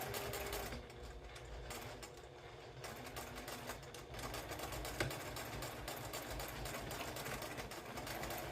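A sewing machine stitches a small fabric tea wallet with a continuous, fairly quiet mechanical hum, the pace shifting slightly as it works around corners, with a small clack midway.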